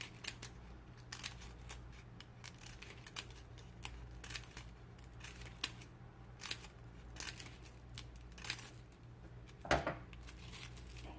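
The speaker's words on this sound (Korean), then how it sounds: "약 2에서 3mm 정도 간격으로 가위집을 내어주시면 됩니다." Scissors snip repeated slits into folded paper for handmade wedding decorations, producing quiet, close, crisp cuts in an irregular series with a sharper snip near the end.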